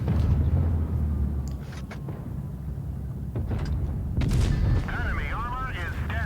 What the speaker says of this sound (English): He puts another nice shot into that AT-15.